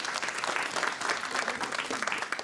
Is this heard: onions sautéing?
no